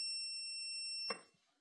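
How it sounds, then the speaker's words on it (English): A steady high-pitched electronic tone hums on, then a short beep with a soft click as a Gizzu Hero Pro1 power unit's AC switches on, followed by faint room noise. "So when I switch this on, you will hear a beep."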